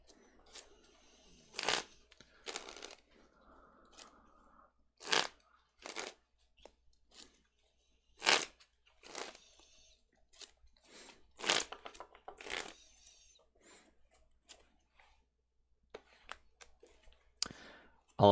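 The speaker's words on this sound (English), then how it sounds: "And then I'll shuffle up." A deck of Pokémon trading cards being handled and shuffled on a table, a series of short, crisp riffling snaps and clicks spaced irregularly, fairly quiet and close.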